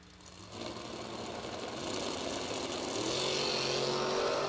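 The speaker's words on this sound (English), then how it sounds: "back into the water box to complete another burnout at 614 dial" A drag racing car spins its tires in the water box during a burnout, the engine roar and tire hiss swelling louder and rising over several seconds.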